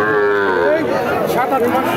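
A Sindhi-breed heifer calf, about seven to eight months old, moos at a crowded cattle market with a loud, drawn-out, wavering call that fills the clip while people talk faintly in the background.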